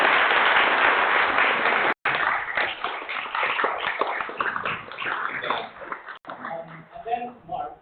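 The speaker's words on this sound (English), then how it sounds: "please give a round of applause to me" Wedding guests at Gosfield Hall clap in a broad, dense round of applause that fills the room, loud at first and gradually thinning out, with voices underneath.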